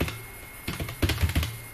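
Quick keystrokes on a computer keyboard while entering a search, a few soft clicks at first, then a tighter cluster of louder taps, close and with no voices.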